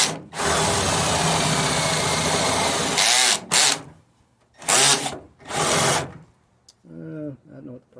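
Power drill with a bit driving into material in drill mode, a loud continuous whirring run followed by several shorter bursts and pauses, with someone talking briefly between them.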